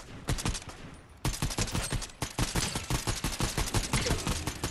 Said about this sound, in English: He keeps shooting at me, though.